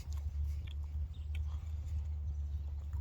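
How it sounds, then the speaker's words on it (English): Close, steady chewing and biting on hard, dry hardtack crackers from a WWII mess kit meal with corned beef, with soft crunches over a low background hum. "The Hard Tack, it's still got a bit of chew to it."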